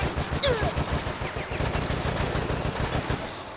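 Rapid bursts of gunfire aimed at a camera in the Resident Evil Operation Raccoon City game, a steady volley of repeated shots with a brief ringing tone near the start, no talk over it.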